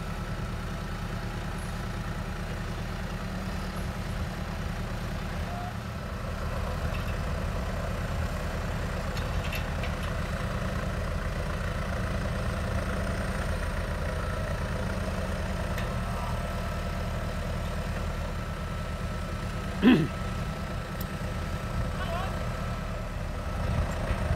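A tractor engine runs steadily at a silage pit, its low continuous drone holding level throughout with a brief clank near the end.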